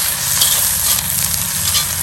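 Red and green peppers sizzle and hiss in olive oil inside a Lodge wok over a Weber charcoal grill, a loud steady frying crackle up close.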